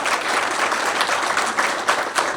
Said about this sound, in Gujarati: એ 3 બહેનોને આપણે તાળીઓથી વધાવીએ.